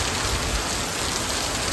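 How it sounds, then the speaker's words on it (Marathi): Steady rain falling on a roof and yard, with some drops striking corrugated sheeting, a dense continuous hiss at even loudness throughout with no voices. "हा बघा, फायनली आज पाऊस पडला"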